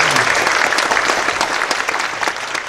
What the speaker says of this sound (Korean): 우리 감사의 박수 해주시면 고맙겠습니다